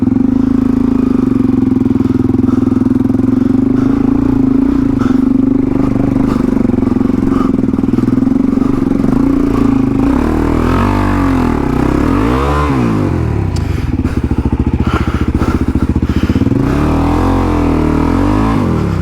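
A heavily loaded adventure motorcycle carrying about 30 kilos of side packs on a rough trail in NSW, Australia, drones loudly and steadily up close, then revs rise and fall repeatedly in the second half.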